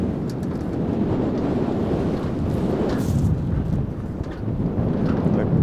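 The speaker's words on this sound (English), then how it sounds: "It's very windy." Strong wind buffets the microphone on a small boat on the Umngot river, a loud continuous roar with gusty swells and no voices.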